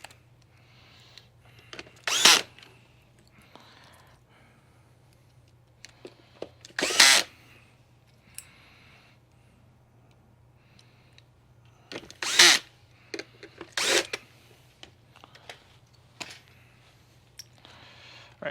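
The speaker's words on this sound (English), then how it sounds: "Yeah, so let's go ahead and put the screws." Power drill driving screws into a Simplicity S36/S38 or Riccar 1700/1800 vacuum cleaner during repair, four loud bursts of a few seconds each with quiet pauses between, over a faint steady hum.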